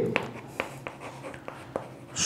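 Marker or chalk writing on a board in a maths class, with crisp separate taps and short strokes at an irregular pace, fairly close and clear, and no voice over them.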